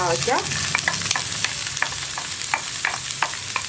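Bitter gourd and green chillies fry in hot coconut oil, a close, continuous sizzle broken by regular scraping stirs of a spoon in the pan, with no talking.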